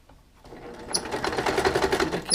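A sewing machine stitches pieces of fabric together for a fascinator, starting softly and building into a steady rapid needle chatter, close and moderately loud.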